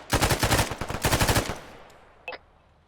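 Bursts of automatic gunfire in Arma 3, rapid rounds in quick clusters for about a second and a half, then fading into a lingering echo with one brief distant report afterward.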